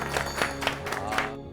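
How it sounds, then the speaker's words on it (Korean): A small audience at a Korean talk session gives brief, light applause, a few soft, uneven claps. "박수 한번"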